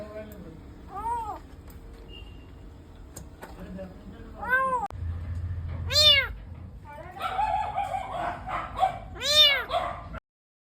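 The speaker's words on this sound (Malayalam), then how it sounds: "അത് മിലോ അല്ലായിരുന്നു വേറൊരു കുഞ്ഞു പൂച്ചയായിരുന്നു" A rescued kitten meows repeatedly, thin high-pitched cries spaced a few seconds apart, with some rustling and handling noise around them.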